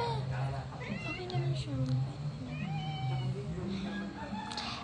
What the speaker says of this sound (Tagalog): Natatakot ako sa pusa.